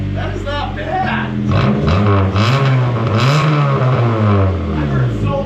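A Honda Civic with a D15 engine revs on a dyno, its loud exhaust note rising and falling through several revs while people talk over it.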